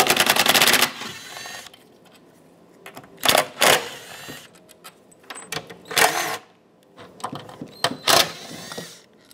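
A ratchet backs out the four 8mm bolts holding the throttle body on the upper intake manifold of a 2008-2020 Dodge Grand Caravan 3.6L. Close, sharp bursts of clicking come in separated spurts, with no talking.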